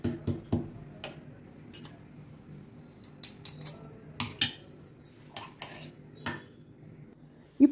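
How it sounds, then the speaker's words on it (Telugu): Black pepper, cumin, garlic cloves and coriander are coarsely crushed, heard as scattered sharp knocks and taps, some in quick pairs, against a quiet background with no speech. "ఒక స్పూన్ మిరియాల్ని, ఒక స్పూన్ జీలకర్రని, కొన్ని వెల్లుల్లిపాయ రెబ్బల్ని, కొంచెం కొత్తిమీరని కచ్చాపచ్చాగా నలగొట్టుకోవాలి"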